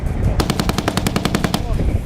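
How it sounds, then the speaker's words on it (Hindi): Rapid automatic gunfire in a loud, close burst of about a dozen evenly spaced shots during a military exercise, with a low rumble from explosions underneath and no talk. "बारूद बरसाते घातक हथियार, गोलियों की तड़तड़ाहट, धमाकों से थर्राता पूरा इलाका"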